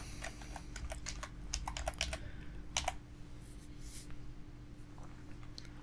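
Typing on a computer keyboard while entering a title for a progress bar in the Elementor web page builder: quick bursts of close, crisp key clicks during the first three seconds, then sparser taps over a steady low hum.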